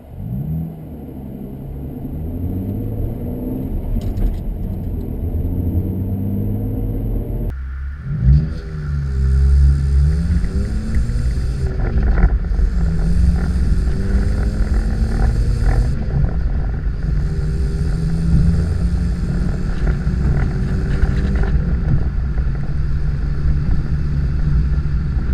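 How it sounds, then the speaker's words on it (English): A 2015 Chevrolet Camaro 1LT with a manual transmission and NPP dual-mode performance exhaust is driven slowly at low RPM, giving a steady, moderately loud, deep rumble that stays subdued throughout. "I'm going to drive real slow, and in doing so, the exhaust, you'll notice, does not get loud"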